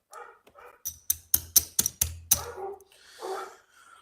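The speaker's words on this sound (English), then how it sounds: "I gotta sit here and deal with some dogs." Several dogs bark in a quick run of sharp, loud woofs, roughly six in a row, followed by softer yips and whining, with no talking.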